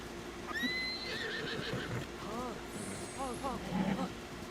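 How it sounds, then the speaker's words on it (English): A dappled gray horse in the video game Tears of the Kingdom gives a clear, high whinny early on, with game hoof and ambient sounds and a person talking over it throughout. "Is this a gray horse? That's a dappled horse."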